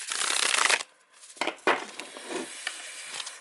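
Tarot cards riffle-shuffled up close: a long crisp ruffle, a pause, then two shorter riffles and soft handling of the deck.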